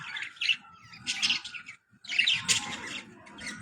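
Budgerigar chicks beg for soft food, giving bursts of shrill, rapid chirps and squawks close by, broken by a brief pause, over low background rustling.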